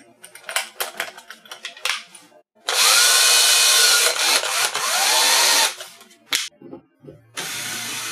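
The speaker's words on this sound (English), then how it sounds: "the holes are now drilled for the toggle bolts for that side" A cordless power drill bores holes into a wall for toggle bolts, a home coat rack mount; two long steady whirring runs with short bursts and pauses between, loud and close.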